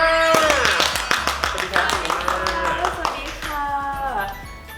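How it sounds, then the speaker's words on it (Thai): Scattered claps welcome a Miss Grand Thailand pageant contestant onto a talk show, sparse and uneven hand strikes over ringing background music and talk. "ขอเสียงปรบมือต้อนรับมาริมา"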